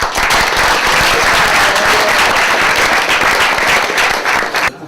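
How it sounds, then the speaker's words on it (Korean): A large audience at a North Korean event in Kaesong gives loud, dense applause that fills the whole stretch and then cuts off abruptly at the end. "거기에 대해서 우선 감사의 박수를 좀 보내주시기 바랍니다."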